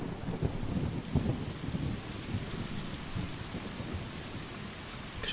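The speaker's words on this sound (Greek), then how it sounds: "Ξεκινάμε με βροχή" In the cat video game Stray, a thunderstorm plays out as a constant wash of heavy rain with deep rolling thunder, strongest at the start and easing to a steady downpour, with no talking.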